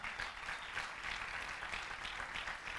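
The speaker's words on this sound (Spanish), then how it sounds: "dale un aplauso al Señor" Congregation at a church service clapping in praise, an even, moderately distant patter of many hands filling the stretch, fairly soft and continuous.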